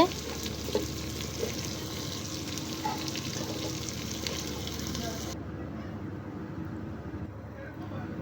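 Bottle gourd pieces tipped into browned, sautéed meat in a pot give a steady low sizzle and crackle under background noise, with a voice speaking over parts of it before the hiss drops off near the end.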